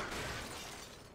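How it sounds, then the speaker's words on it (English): Glass shatters in the video game BioShock 2, a brief dense burst of breaking noise filling the whole short moment at moderate loudness, no speech. "Breaking open the glass,"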